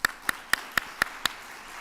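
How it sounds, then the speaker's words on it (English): Six sharp, evenly spaced hand claps from a single person, loud and close, with a steady rhythm and near silence between them, during an honors night ceremony at a medical college. "But give a round of applause for Jennifer Holland"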